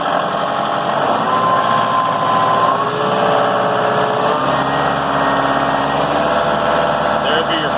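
A Massey Ferguson 2705e tractor engine, run up from idle with the foot throttle, rises to a steady, smooth drone that holds close and loud throughout, with someone speaking briefly over it.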